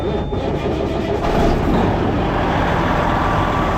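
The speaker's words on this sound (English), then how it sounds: "Let's start the truck." A truck engine turns over and catches, then settles into a loud, steady rumble close by with no talk.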